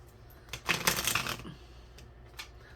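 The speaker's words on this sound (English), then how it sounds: "these cards don't want to shuffle" A deck of reading cards shuffled by hand, a short, soft, close riffle of stiff cards flicking together, with a few faint clicks afterward.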